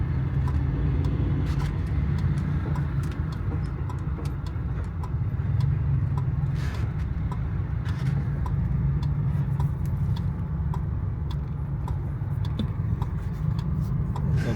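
Steady road traffic at the Srinagar Highway and Murree Road intersection, a continuous mix of car and bus engines rumbling and idling nearby with passing vehicles, and no talk.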